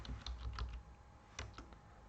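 Keys clatter on a computer keyboard during quiet indoor work, one short burst of quick keystrokes followed by a brief pause and a few more taps, soft and close.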